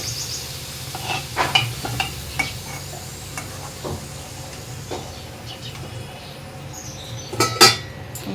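Potatoes and other vegetables frying in oil in a home kitchen, a low steady sizzle under intermittent scrapes and clinks of a spatula against the pan, with a few sharper clatters near the end.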